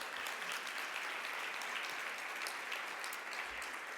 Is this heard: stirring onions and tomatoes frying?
no